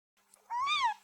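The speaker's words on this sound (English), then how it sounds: "is that a kitten?" A single short, high meow from a small gray kitten on a city sidewalk, clear and rising then falling, heard alone against quiet.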